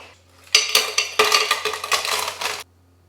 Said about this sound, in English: let's see if we add ice to this first before water